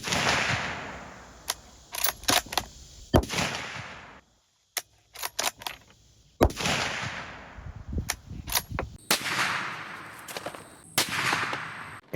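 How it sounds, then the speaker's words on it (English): Sharp rifle shots from a 350 Legend firing Winchester PowerMax Bonded 160 grain rounds into ballistics gel, a series of loud cracks at uneven intervals, each with a short ringing tail, no talk. "So let's go ahead and shoot it."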